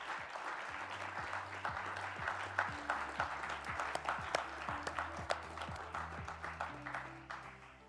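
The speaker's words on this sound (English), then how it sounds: "welcoming the following commitment makers to the stage with a real and rousing round of applause" Audience applause at a leaders' stage economic forum as commitment makers walk out, steady clapping filling the hall for about eight seconds over faint background music.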